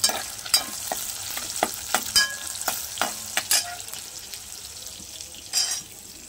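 Tomatoes sauté in oil with curry leaves in a pan, a soft steady sizzle broken by repeated sharp scrapes and clicks of a spoon stirring against the metal.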